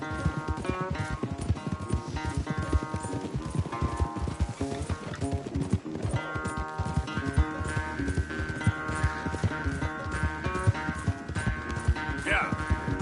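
Rapid, rhythmic clip-clop of a horse galloping in the Red Dead Redemption 2 video game, continuous and close throughout a race, with music and speech layered over the hoofbeats.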